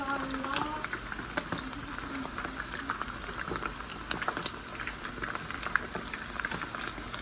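Chicken fries in a skillet with steady bubbling and crackling sizzle, close and continuous, with scattered sharp pops of hot oil and faint voices briefly underneath.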